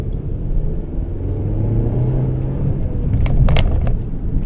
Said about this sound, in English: the car sounds so much more aggressive than in sport mode